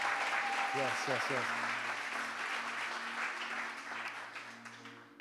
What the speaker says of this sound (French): Est-ce qu'on peut t'applaudir ?